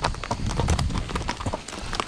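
Gaited horse hooves clip-clopping in a quick, even rhythm, close and loud, continuing without pause and with no voices.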